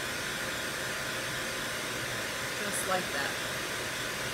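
A hand-held dryer blows steadily on chalk paste painted onto a DIY beaded tag, a constant loud whoosh that fills the clip, with a few brief spoken words near the end.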